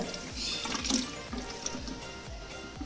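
Homemade banana wine is stirred in a container, making repeated liquid swishes and sloshes at a steady rhythm, close and moderately quiet, with no talking.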